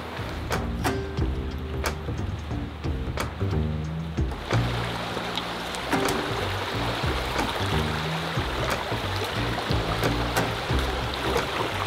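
Water rushing along a small mountain creek with a glacial tint, a steady close babble and splash filling the scene, with soft knocks and no talk.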